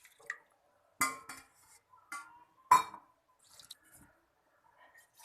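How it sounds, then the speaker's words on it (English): Washed basmati rice tipped into a pressure cooker, giving a few scattered wet slides and clinks with sharp bursts among quiet gaps, close and fairly faint. "now I am transferring it to cooker"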